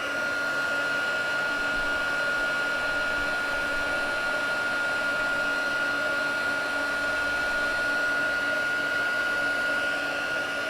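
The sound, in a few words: heat tool melting white embossing powder on card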